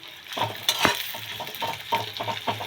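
Onions fry in oil for crispy birista, a soft continuous sizzle broken by repeated stirring scrapes and a sharp clink of a spoon against the pan.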